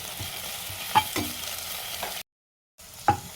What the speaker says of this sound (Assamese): এতিয়া এইখিনি ভালদৰে ভাজি লওঁ, কেঁচা গোন্ধটো আঁতৰাই লওঁ।